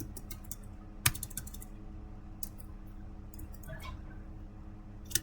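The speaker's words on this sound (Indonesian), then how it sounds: "lalu kita ketikkan passwordnya" Password being typed on a computer keyboard in a quiet room: a few sparse clicking keystrokes in short bursts, with one sharper key tap near the start and another at the end.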